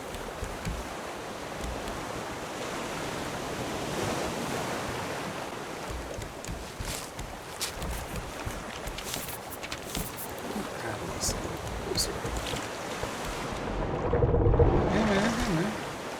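Ocean waves wash continuously around a raft in the survival game Raft, a steady broadband surge with wind, building to a heavier swell near the end, while a person talks over it.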